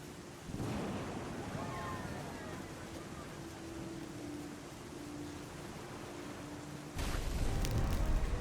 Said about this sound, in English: the waves are going up too